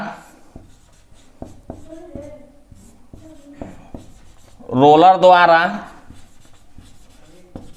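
A pen scratches out a class 9 maths solution by hand, on surface area and volume, with short strokes under steady explanatory speech; a louder spoken stretch briefly rises over the writing.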